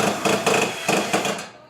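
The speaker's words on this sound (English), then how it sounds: "Tighten down the clamp," A screwdriver tightening the clamp that holds flexible metal conduit on a 4-11/16-inch steel junction box: a close, rhythmic run of five or six grinding, ratcheting turns that fades out at the end.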